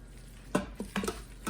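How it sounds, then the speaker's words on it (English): Spoon stirring tomato paste into a pot of no-bean chili: a few soft scraping knocks and stirs over a faint low simmer, close and quiet. "you're going to take your tomato paste. You're going to stir it in really good."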